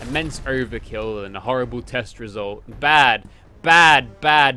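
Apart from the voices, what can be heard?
None of the usual background noises is heard.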